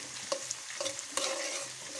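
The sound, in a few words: cumin seeds sizzling in hot oil in a kadhai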